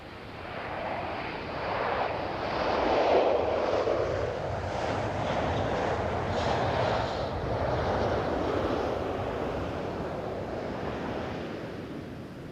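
An airplane arriving at Amsterdam Airport Schiphol on a windy June day makes a broad, distant roar that swells and fades gently, blended with steady wind noise and no speech.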